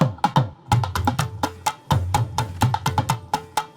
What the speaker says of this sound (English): all of them together kind of make up the entire percussion ensemble